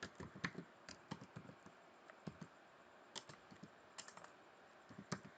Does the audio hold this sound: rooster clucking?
no